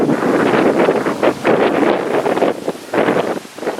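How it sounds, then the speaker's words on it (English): Strong wind buffets the microphone outdoors on a rice field farm in the Philippines, a loud, continuous roar with gusty swells and no voices. "you can probably hardly hear me because of the wind"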